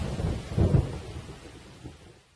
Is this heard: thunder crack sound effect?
yes